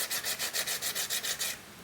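Soft Sennelier pastel stick rubbed back and forth on paper in steady quick strokes, a faint dry scratchy rasp repeating about eight times, close up with no talking.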